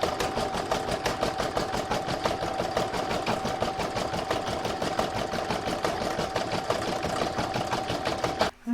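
An embroidery machine stitches a redwork Christmas tree in a fast, even needle rhythm, loud and close, running steadily alone before stopping abruptly at the end.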